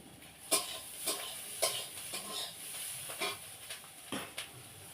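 Potatoes fry in a pan with a continuous sizzle, broken by several sharp scraping stirs spaced irregularly about half a second to a second apart, close to the microphone.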